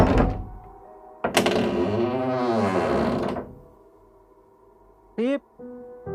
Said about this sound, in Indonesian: Karena kesal, Agung membuka handle pintu.